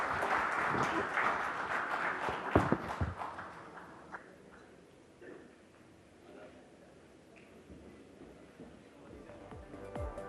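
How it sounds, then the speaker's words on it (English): Audience applause at a business conference event in India, brisk clapping that starts fairly loud and then tapers into scattered claps, with a few louder thumps and some voices. "A round of applause for"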